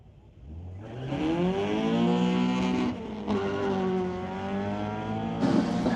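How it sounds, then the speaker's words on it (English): A Honda Civic and a Mercedes-AMG C43 drag racing at Mission Raceway Park, engines revving hard and rising in pitch through several gear changes, loud and close with brief dips at each shift. "Both cars roaring through the gears, but that Civic has got some wheel spin underneath it."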